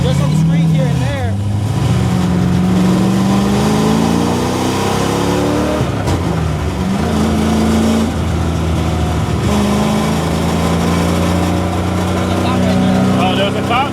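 LS3 V8-swapped BMW E30 driving on a public street, its engine note rising and falling through gear changes with steady harmonic drone, while people talk inside the car over it throughout.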